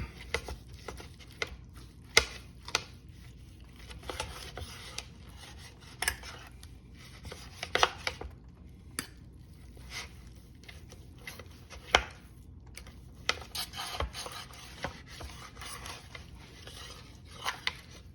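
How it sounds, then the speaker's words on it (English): A knife cuts slices from grilled beef picanha, cooked medium rare on a pellet grill, giving scattered soft scraping and tapping strokes against a board, close and fairly quiet, with no talking. "Let's get a few more slices off of here."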